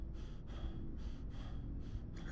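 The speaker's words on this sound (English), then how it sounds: "You can still hear me breathing from the little sprint." Heavy, close breathing after a short sprint, with rhythmic gasping inhales and exhales repeating steadily about every second, loud and alone without talk.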